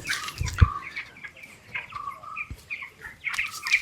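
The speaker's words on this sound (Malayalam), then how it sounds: "കോഴി ഫാമാണ്" A flock of chickens on a poultry farm clucks and chirps intermittently, with a few sharp bursts of wing flapping near the start.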